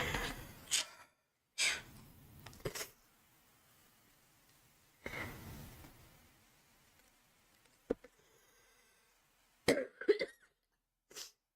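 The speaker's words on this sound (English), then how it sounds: "Pardon any coughing on my part." A person coughs in several separate bursts, close and fairly quiet, with short silences and faint breaths between them; no speech.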